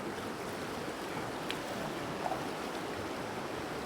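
A river in Palin, Arunachal Pradesh, rushing steadily as a broad, even wash of water noise, fairly faint and continuous, with a couple of small clicks and no talking.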